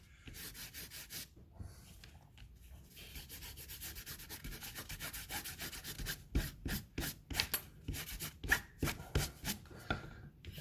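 Compound coating is rubbed onto a straight razor strop in light layered coats, first as a steady soft scrubbing, then as distinct rhythmic back-and-forth strokes, close and fairly quiet with no talk.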